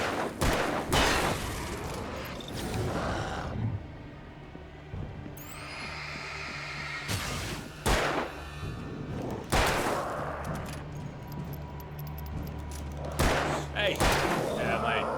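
Gunshots in the Alan Wake video game, several sharp loud bangs spaced irregularly across a dense background of game noise and rumble, with a voice talking at times.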